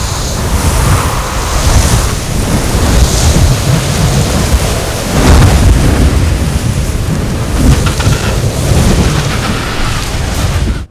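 Fierce early spring storm winds in Antarctica roar loudly and continuously, a dense, unbroken blast of gusting wind with no voices.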